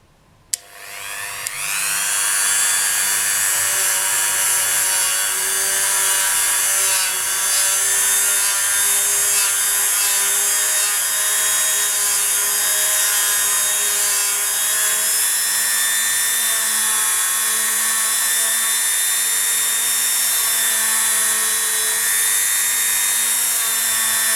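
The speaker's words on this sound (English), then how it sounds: "So I'll bring over our buffing wheel and I'm using a Dremel." A Dremel rotary tool spins a buffing wheel against a polymer clay earring, a steady high-pitched motor whine with a rubbing hiss that starts abruptly and holds loud and continuous, shifting slightly in pitch as pressure on the piece changes.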